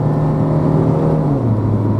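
A small-engine car with an automatic gearbox climbs a mountain road with its revs held up, giving a loud, steady engine drone and road roar heard from inside, with the pitch sagging slightly near the end.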